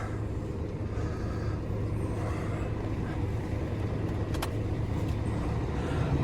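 A car pulling away onto the road, a steady close engine and road rumble that builds slightly toward the end, with no talking.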